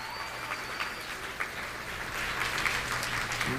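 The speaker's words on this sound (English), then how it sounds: "Give yourselves a round of applause for being here for this whole week." Audience applause in a Washington lecture hall on the last day of a week-long event, a steady, fairly distant wash of clapping that swells slightly toward the end.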